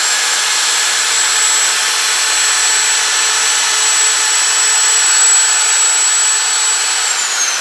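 A loud, steady power-drill whine runs without a break, a broadband mechanical roar with a high constant tone and no pauses, powered from a Bluetti EB70S power station.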